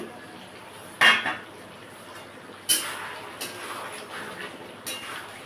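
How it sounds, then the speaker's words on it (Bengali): A metal lid comes off a pot of simmering chicken curry, with two sharp clanks followed by a few lighter clinks over a low background hiss. "ঢাকাটা খুলে একবার দেখে নেব"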